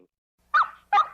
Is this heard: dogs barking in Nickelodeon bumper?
yes